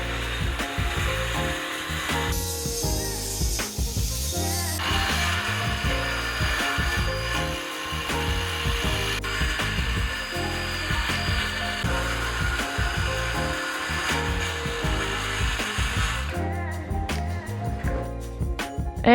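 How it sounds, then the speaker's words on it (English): A power saw cuts a groove down the center of a piece of wood, a loud, continuous rasping whine lasting many seconds with slight shifts in pitch as the blade works through. "first up we are going to use the saw to cut a groove in the center of this piece of wood"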